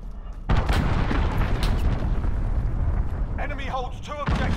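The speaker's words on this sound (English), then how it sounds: "Enemy cruise missile incoming." Enemy cruise missile strikes in the Call of Duty: Modern Warfare multiplayer game, a sudden heavy rumbling blast followed by sustained low booming and debris, with in-game voices calling out over it.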